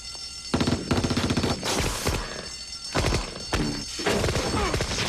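Several bursts of automatic gunfire rattle off in quick succession, separated by short pauses, loud and close.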